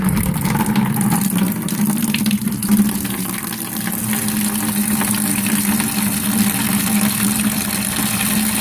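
Water drains from a steam boiler during a test of its auto water feeder and low-water cutoff, a steady rushing flow over a constant low mechanical hum, close and unbroken throughout with no talking.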